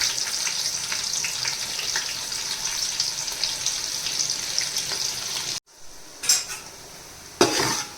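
Onion frying in hot oil with whole spices for chicken pulao gives a steady, close sizzle that runs unbroken for over five seconds, then cuts out abruptly, followed by brief stirring scrapes and a renewed burst of sizzling.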